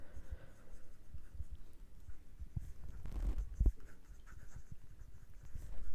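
Pen writing on paper while solving a class 12 maths problem on planes, faint scratchy strokes in an irregular rhythm, close and quiet, with a slightly louder tap midway.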